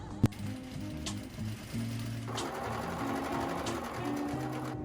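A sewing machine running a long basting stitch through denim, with a steady mechanical whir and rhythmic needle chatter heard up close, preceded by a sharp click and running on without talk.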